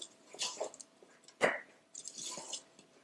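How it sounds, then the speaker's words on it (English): A thick vegetable pakora batter of ground flour, spices and water is stirred by hand, giving soft, wet squishing and slapping sounds in a few short bursts with quiet pauses between. "You need to mix it well."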